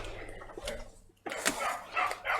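Dogs barking and shouting outdoors in a garden as they run up and down, several loud bursts with a short pause in between, heard from indoors over faint room noise.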